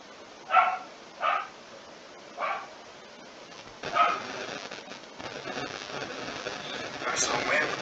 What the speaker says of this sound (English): And my dog keeps barking.